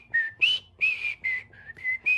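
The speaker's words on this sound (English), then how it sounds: "You whistle a lot, and then you kind of just slip in to that secret note." A person whistles a string of short, clear notes, about seven in quick succession with brief gaps, close and alone without talk.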